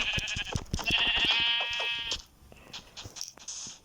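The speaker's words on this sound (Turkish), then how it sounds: "Ya koyun çık ya." A sheep bleats once in a video game, a loud, wavering nasal cry lasting about a second, followed by quieter clicks and small game sounds.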